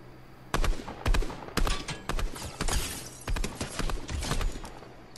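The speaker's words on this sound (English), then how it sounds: "Someone shooting." Gunshots ring out in a rapid, irregular string of sharp cracks, some overlapping into bursts, fired at moderate distance over a steady background hum.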